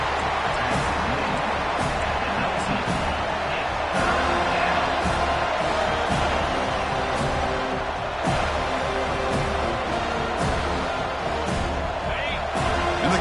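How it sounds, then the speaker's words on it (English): A steady roar from a football stadium crowd cheering on the defense in the red zone, broad and continuous throughout, with sharp thuds scattered through it and commentary talk running underneath. "the crowd coming to life here, trying to help this defense down in the red zone"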